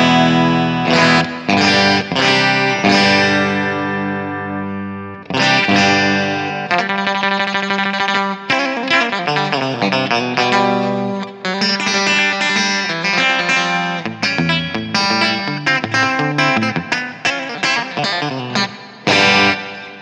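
A Fender Stratocaster electric guitar played through distortion and chorus effects rings out in loud, thick chords and quick riffs, with brief gaps between phrases and no talking.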